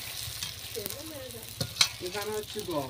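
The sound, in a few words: frying puchka in oil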